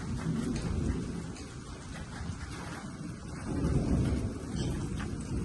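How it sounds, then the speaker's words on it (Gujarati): Heavy raindrops drum steadily onto a water tank during a thunderstorm, a dense, continuous wash of rain that swells louder midway with low rumbling beneath, and no one speaks. "જો ટાંકી ઉપર છાંટા પડવા માંડ્યા મોટા મોટા"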